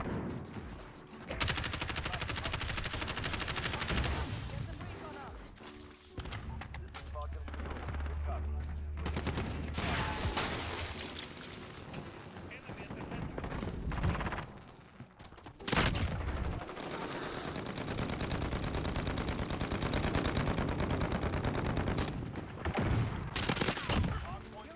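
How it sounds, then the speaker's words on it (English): Sentry gun firing in Call of Duty: Vanguard, rapid sustained automatic bursts with scattered extra gunshots across a busy multiplayer match, fairly quiet in the mix, with occasional talking over it. "He definitely put that sentry gun like right in that window."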